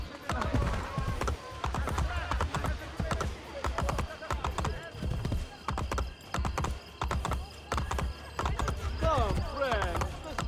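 Galloping horse hooves pound in an even, rapid rhythm throughout a ride in Assassin's Creed: Brotherhood, loud and near, with occasional whinnies and someone talking over the running horse.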